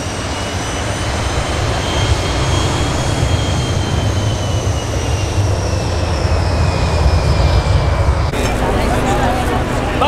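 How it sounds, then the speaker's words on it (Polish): A loud, steady airplane engine roars at an air show runway, with rising whine tones over a broad rumble and a shift near the end, while people talk underneath. "Czekamy, aż samolot zajmie pozycję na progu pasa i wtedy rozpocznie się"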